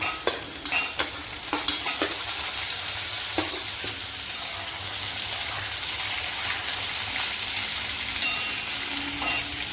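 Pumpkin and potatoes fry in a pan with a steady sizzle, while a spoon stirs and scrapes through them in several sharp clatters, loudest near the start.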